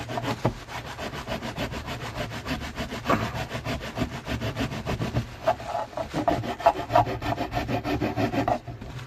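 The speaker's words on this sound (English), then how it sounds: "I'm mainly kissing the top of this, so the file is at a bit of an angle" A hand file rasps on wood while squaring the tenon of a guitar neck on an ES-335-style build, many quick, evenly rhythmic scraping strokes, close and steady throughout.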